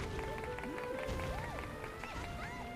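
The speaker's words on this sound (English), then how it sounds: "Everybody's clapping." Game-like crowd noise from Dragon Quest Builders 2 with scattered clapping and busy background sounds, a steady bed of activity with occasional chirpy tones rising and falling.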